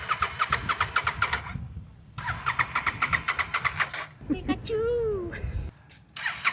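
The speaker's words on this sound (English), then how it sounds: "Let's hear the exhaust note." A Royal Enfield Interceptor 650 with an aftermarket Way2Speed stainless steel exhaust idles with a fast, throbbing exhaust pulse, drops away, then returns; a voice briefly cuts in mid-way, a high squeaky exclamation.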